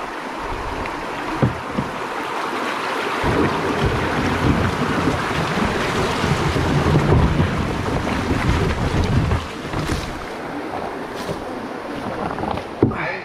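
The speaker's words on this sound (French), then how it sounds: "Je vais descendre une petite rigole pour les kayaks là" Kayak running down a small water channel, with rushing water and steady wind buffeting the microphone throughout, louder through the middle stretch and fading slightly near the end.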